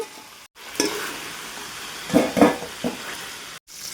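Whole garam masala and white cumin seeds hitting hot oil in a pan, giving a steady close sizzle broken by a few brief stirring scrapes and utensil knocks.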